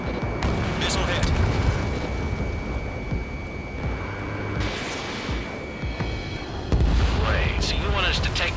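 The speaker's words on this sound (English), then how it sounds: "Missile hit." Missile strikes and explosions in the Ace Combat 7 flight combat game ring out as heavy rumbling booms over constant jet engine roar, with a fresh blast near the end, while a voice talks over the action.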